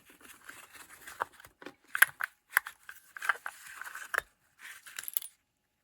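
Small clicks, snips and plastic crackles from cutting apart molded plastic parts of a Poulan Pro 4620 chainsaw during disassembly, heard as irregular close, fairly quiet snaps with short pauses between.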